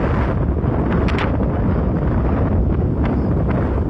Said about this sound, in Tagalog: Malakas pa yung hangin.